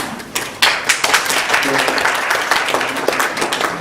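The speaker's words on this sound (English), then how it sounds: "let us give big applause" Audience at a bioethics conference applauding, a dense burst of many hands that swells in after a brief quieter start and holds steady, fairly close and loud, with faint murmurs mixed in.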